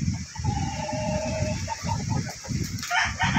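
Chickens cluck and a rooster crows on a Philippine farm, the fowl calls rising in bursts near and far over steady low rural background noise.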